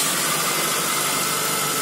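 Engine of a 1999 Nissan Liberty car running steadily, a close, even broadband idle hum with no voices throughout.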